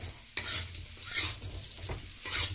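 Raw banana pieces frying in hot oil in a pan, giving a steady close sizzle with a few sharp clinks and scrapes from a stirring spoon.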